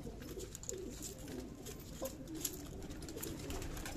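Faint, distant pigeon coos come from a loft of domestic pigeons, including a female, with light patter and steady ambient noise beneath.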